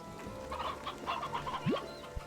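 Hens clucking in the Slime Rancher 2 video game, a burst of soft repeated clucks at moderate level over a faint ambient hum, with a brief rising chirp near the end.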